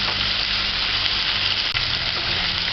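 Onions frying in a pan while being browned for a brown stewed chicken, a steady close sizzle running throughout without pause.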